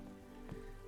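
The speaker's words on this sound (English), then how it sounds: "I have summoned the rain." Steady, soft rain patters continuously in the fantasy video game Mask of Mists, a faint even hiss of falling drops with no voices.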